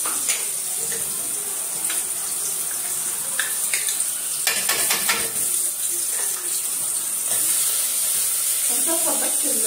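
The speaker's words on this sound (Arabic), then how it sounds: "نقلب فيه التوم" Minced garlic sizzles and fries in a pan while it is stirred, a steady close crackle with occasional scraping knocks, and a voice speaks briefly over it.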